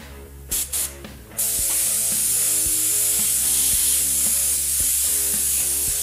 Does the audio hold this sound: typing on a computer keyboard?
no